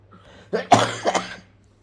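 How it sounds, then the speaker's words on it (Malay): A single person coughs up close, a short burst of two or three harsh coughs followed by a throat-clearing rasp, loud against a quiet room with faint low hum. "Mungkin kita batuk sekarang ni."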